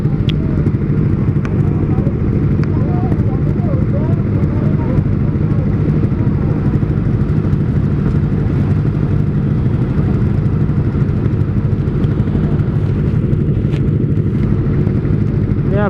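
A Kawasaki ZX25R with an R9 Zeta exhaust runs steadily and close, its engine holding a continuous rough, throaty drone for the whole stretch with no clear revs or pauses, while people talk faintly underneath.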